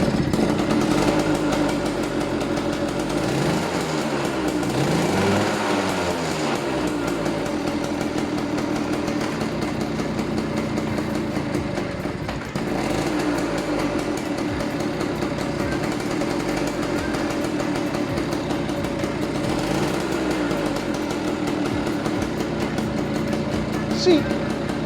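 A Yamaha V80 motorcycle engine faulted so that it starts and runs backwards, a steady loud rumble with a rough, choppy idle that holds throughout.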